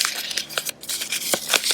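Playing cards for a tabletop game are shuffled by hand, giving a rapid series of crisp riffling and slapping bursts, close and fairly loud, with no talk over them.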